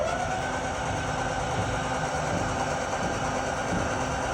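Truck camper jacks on a 2022 Palomino Real-Lite HS-1912 hum steadily as they lift the camper off the truck, a constant close motor drone with no variation or talk.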